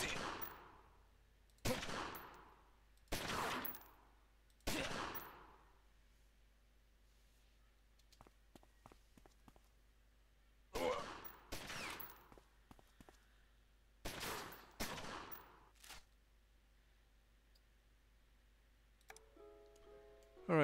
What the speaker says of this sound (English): I'm just going to fire on him 4 times.